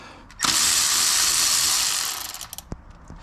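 Ratchet working on the transmission filter bolts of a Toyota Camry, a burst of rapid clicking for about two seconds followed by a few isolated metallic clicks and knocks nearby.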